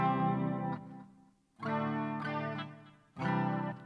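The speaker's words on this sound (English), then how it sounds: "I think this is kind of meant to simulate maybe a Fender type amplifier" An ESP Eclipse electric guitar strums chords through a Fender-style amp simulator with a clean tone and chorus-like shimmer, three ringing phrases separated by brief pauses.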